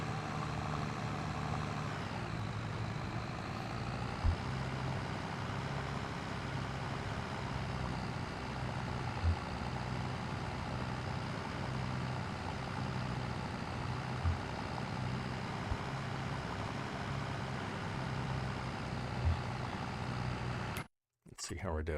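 A tractor engine in the farming game Szpakowo: Dairy Farm Revival runs at a steady low idle-like rumble for the whole stretch, a constant droning hum with only brief breaks near the end.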